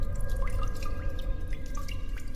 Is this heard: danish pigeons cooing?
no